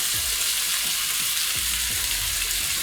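A rack of lamb sears in a pan as it is turned, a dense, loud, unbroken sizzle up close with a few low thumps and shifts from the meat and pan beneath.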